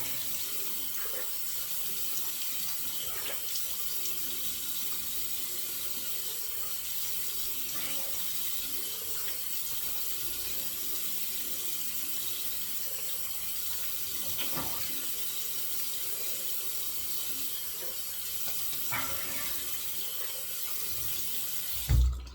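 Steady stream of tap water pours into a sink as a razor is rinsed beneath it, a constant close hiss of running water with faint clinks, ending in a brief louder knock.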